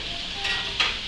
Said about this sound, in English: Let's give that a little stir. Meat's coming along nicely.